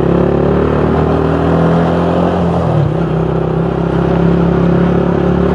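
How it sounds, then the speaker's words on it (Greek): A Daytona DY 125 RS EFI motorcycle engine drones steadily up close on a test ride, its pitch dipping briefly as the rider eases off before climbing again. "Περνάμε και στο test drive με το μηχανάκι, το κάνω εγώ."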